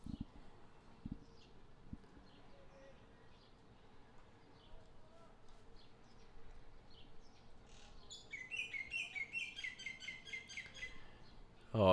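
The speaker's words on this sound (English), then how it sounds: "You can hear the birds chirping in the background." Busy chattering bird calls swell into a loud burst of chirps near the end, over a faint background hum and a few soft knocks.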